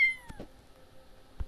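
A house cat meows a couple of short, close cries over a quiet room, with a faint thump between them.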